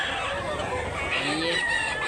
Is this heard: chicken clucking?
yes